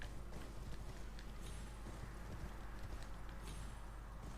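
Horse hooves gallop in the Elden Ring video game as a faint, steady, rapid clip-clop, running continuously under a soft hiss with no voices.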